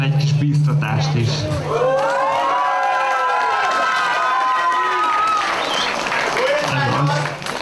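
A festival audience cheers and shouts encouragement for chili-eating contestants at an outdoor chili festival, a loud continuous crowd roar with children's voices and whoops, fading briefly near the end.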